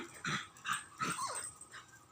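A young puppy whimpers and yips in a string of short, high, wavering cries, close by and fairly quiet, with brief pauses between calls.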